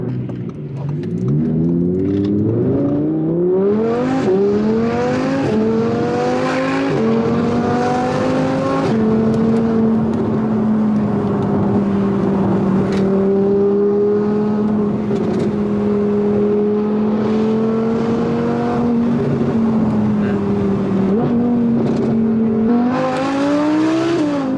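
McLaren 675LT supercar accelerating hard, its engine note climbing through rising gear pulls and then holding a loud, steady high-revving drone, with a few shifts and a final rising surge near the end; no talk over it.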